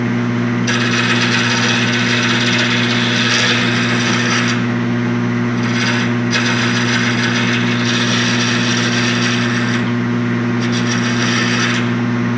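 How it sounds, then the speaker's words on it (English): A sharp scraper drawn repeatedly over a wooden table surface during a repair, giving steady rasping strokes in several long passes with brief pauses, close and fairly loud over a constant low hum. "now the only thing left to do is to smooth it down with a scraper"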